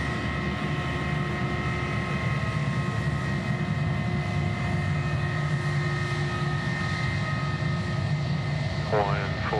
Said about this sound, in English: Jets are off to Coolangatta.